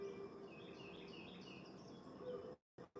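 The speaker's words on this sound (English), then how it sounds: "I just hear the bird chirping." Faint bird chirps twittering in the distance over a quiet, hissy background, ending in a brief dropout.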